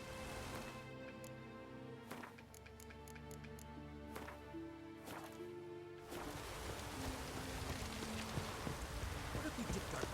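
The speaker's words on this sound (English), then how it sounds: "Looks like rain." Rain falls in The Witcher 3 game world, starting as a soft patter with a few sharp drips and then swelling into a dense, steady hiss of heavier rain for the remaining seconds.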